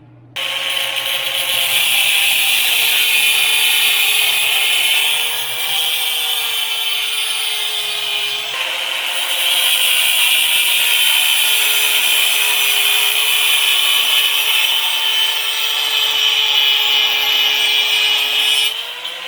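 Angle grinder cutting metal pieces for a homemade rope maker, a loud continuous whine with a steady tone, briefly dipping near the middle before resuming through to the end, with no talking.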